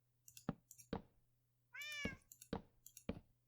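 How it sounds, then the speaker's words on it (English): Minecraft cats give a series of short, sharp meows spaced about half a second apart, with one longer drawn-out meow in the middle, clear and fairly soft against silence. "I'm going to hear these cats every time I come over here."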